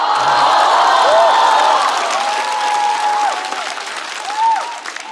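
A stand-up comedy audience breaks into loud, dense applause with scattered cheers and whoops. The clapping stays thick for a few seconds, then thins out toward the end.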